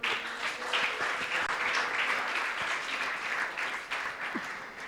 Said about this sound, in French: Ok, on va acclamer pour eux.